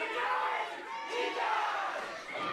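Crowd in a Providence function hall at a wrestling event roars and cheers, a loud sustained swell of many voices close around the ring.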